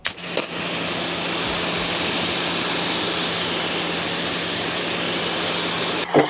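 Pressure-washer rinse spraying a Volkswagen ID.4 car after two weeks of sitting, a steady loud hiss of water running unbroken for several seconds, with brief bursts at the start and end.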